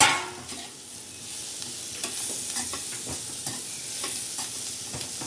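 Green chillies fry and are stirred in a pan with fried bitter gourd and onion: a steady, close sizzle broken by frequent scraping clicks of the spoon, with no talking.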